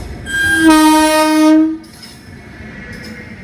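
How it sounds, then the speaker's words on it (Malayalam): A G9 passenger train arriving at Kannur station sounds one loud, long horn blast of about a second and a half, followed by a quiet rumble of the train, with no voices. "കണ്ണൂരിൽ നിന്ന് ഒരു ട്രെയിൻ ഇറങ്ങി വരുന്നുണ്ട് കേട്ടോ"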